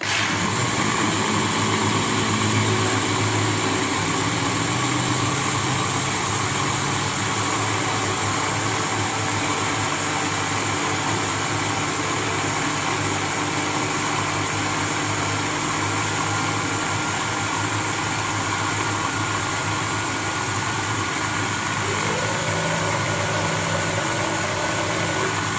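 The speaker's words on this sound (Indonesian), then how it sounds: "Blender sampai halus, ya." A kitchen blender whirs steadily as it purees soaked rice with water, salt and vanilla into a smooth batter for gemblong, a continuous loud motor drone and grinding hum with no voices.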